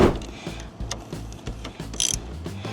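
Close ratcheting clicks as a wrench loosens a battery terminal bolt on a 2007 Range Rover L322, a quick rhythmic series of metallic ticks with light handling noise.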